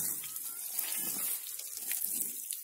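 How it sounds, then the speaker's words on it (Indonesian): Water gently poured over young red curly chili seedlings in a highland garden, a steady, soft trickling and splashing stream heard up close with no talking. "kita siram teman-teman secara perlahan-lahan karena ini tidak bisa penyiramannya secara cepat"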